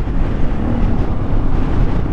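Strong wind roars steadily and loudly across the microphone on a motorcycle ride on the road to the Mayon Skyline View Deck, Bicol, a constant low buffeting rush with no letup.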